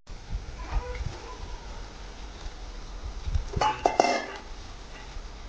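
Kurdai crumbs being stirred into spiced oil in a pan, giving a few scraping, clinking utensil strokes against the pan, loudest near the end, over a quiet kitchen background.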